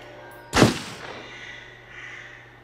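A single loud gunshot from the video game Until Dawn cracks out sharply, followed by a short fading echo and quiet ambience.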